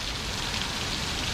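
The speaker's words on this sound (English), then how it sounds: "And as you can see here, pouring rain." Heavy pouring rain in Florida, a dense steady hiss of drops hitting surfaces, even and continuous with no voices.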